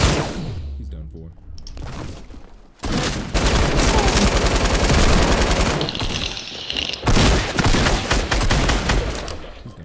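Rapid automatic gunfire from the Fortnite video game, played on console, rattles in dense bursts after a short quieter opening, loud and nearly continuous with whooshing effects, while players talk over it.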